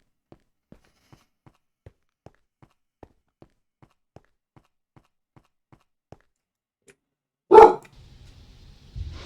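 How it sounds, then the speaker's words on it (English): A dog gives a single loud, close bark after a long stretch of quiet, faint regular ticking, followed by a low rumbling tail. "The doggo has awakened."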